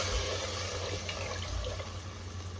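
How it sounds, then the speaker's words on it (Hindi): Water is poured from a steady stream into cooking masala with potatoes for paneer pulao in a home kitchen, a continuous splashing rush heard alone without talk. "मसाला कुक होने लग गया है तो अब हम इसमें पानी डालेंगे"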